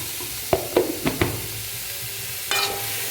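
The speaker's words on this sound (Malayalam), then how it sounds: "നന്നായിട്ട് ഇളക്കി കൊടുക്കാം." Purple cabbage sautéing with salt in a pan, a handful of quick stirring scrapes and knocks over a soft sizzle, followed by a longer scrape near the end.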